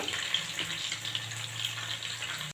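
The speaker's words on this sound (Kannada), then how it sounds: "ಸ್ವಲ್ಪ ಎಣ್ಣೆಯಲ್ಲಿ ಫ್ರೈ ಆಗಲಿ" Chopped ginger and green chillies fry in a little oil, a soft, continuous crackling sizzle heard close but fairly quiet, with faint bubbling throughout and no talk.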